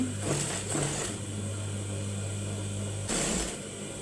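A sewing machine stitching the collar onto a baby top, with a steady low motor hum and brief bursts of mechanical noise at the start and near the end.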